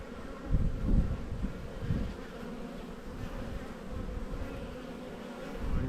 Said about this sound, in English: Lots and lots of bees.